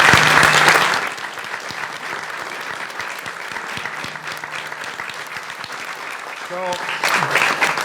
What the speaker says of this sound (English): So how about a round of applause for all those?